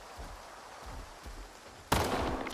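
A Three Line rifle loaded with armor-piercing rounds fires in STALKER 2, one sharp loud report cracking out over quiet game ambience, followed by a ringing tail.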